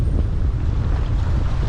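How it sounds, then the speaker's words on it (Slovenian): Strong wind gusting across a microphone aboard a sailboat in the Red Sea, a continuous loud low rumble and buffeting with rough sea waves beneath, no voices. "je bil najmočnejši sunk, valovi so pa nenormalni"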